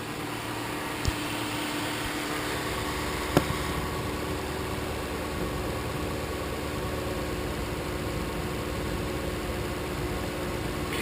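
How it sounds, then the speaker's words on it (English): A Lexus LS 430 engine idling, heard as a steady, very quiet and smooth low hum close by with a constant tone, broken only by a couple of brief faint clicks. "Listen to this engine."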